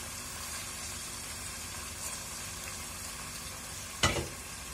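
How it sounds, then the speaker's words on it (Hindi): Small cubes of chicken frying in hot oil in a kadai give a faint, even sizzle and hiss throughout, with one brief louder stir or clatter near the end. "कढ़ाई में ऑयल गर्म करेंगे और उसमें ये हम अपना चिकन ऐड करेंगे"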